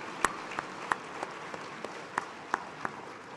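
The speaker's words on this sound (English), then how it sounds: "Let's give the faculty and staff a great round of applause for this honor." A 2011 nursing graduation audience gives scattered applause, heard as sparse, faint individual claps spaced unevenly over a soft background of room noise.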